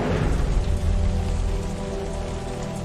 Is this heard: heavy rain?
yes